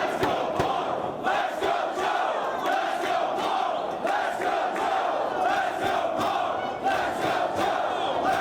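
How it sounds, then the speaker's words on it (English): A divided wrestling crowd in Dayton chants "Let's Go Punk, Let's Go Joe" at a world title match between CM Punk and Samoa Joe, a loud, steady, rhythmic arena roar of alternating chant phrases. "This 50-50 crowd once again voicing their opinion with that "Let's Go Punk, Let's Go Joe" chant"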